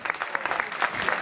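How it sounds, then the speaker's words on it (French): Brief burst of lively audience applause for young competitors at a demonstration event in Bazeilles, dense clapping at a steady level. "On peut les applaudir,"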